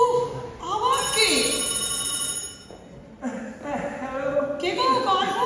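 A telephone rings with a bright electronic warble in repeated bursts separated by short gaps. Voices talk and laugh over and between the rings.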